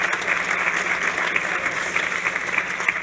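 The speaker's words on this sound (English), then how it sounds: "Big applause for Juan." An audience applauds a presenter at a space tech startup competition, with dense, steady clapping that stays even and loud throughout.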